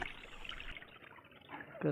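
A tap's water trickles and dribbles faintly as it is turned off, the thin flow fading under a voice that speaks briefly near the end.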